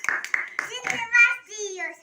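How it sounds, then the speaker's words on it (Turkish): At a child's birthday party, a few quick hand claps at the start, mixed with a voice and vocal sounds, close by. "Aferin alkış"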